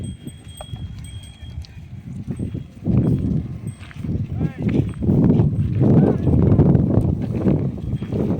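Cows, calves and horses from a temple cowshed in Kalyan returning from grazing, with scattered hoof clops and shuffling movement building louder midway, while a person talks over them.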